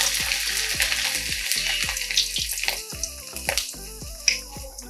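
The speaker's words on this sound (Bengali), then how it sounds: "এই ছাঁকনির সাহায্যে আমি চাল ভাজাটা ভেজে নেব" Rice fries in hot oil inside a strainer as it is stirred, giving a steady close sizzle with repeated sharp scraping ticks and clinks at a quick uneven rhythm.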